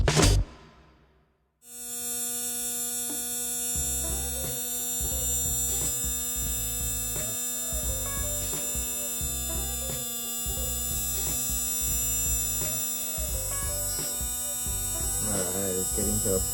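A Tamiya Mini 4WD Torque-Tuned 2 motor runs during break-in, a steady high-pitched electric whine with a constant hum that starts abruptly after a short quiet gap and holds close and loud throughout.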